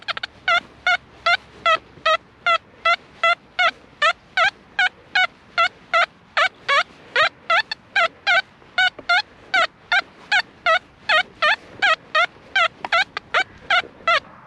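A metal detector set to audio response 7 gives a rapid series of pulsing electronic tones repeating steadily, a couple of beeps per second, loud and close with no talking.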